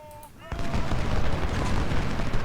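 Infantry musket volley in the Civil War strategy game Ultimate General: Civil War, a loud burst of massed gunfire that swells into a sustained rolling crackle and rumble.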